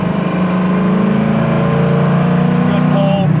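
A 1978 Camaro Z28 cruising at about 3,000 RPM, around 55 to 60 mph, heard from inside the car as a loud, steady engine drone that holds even throughout.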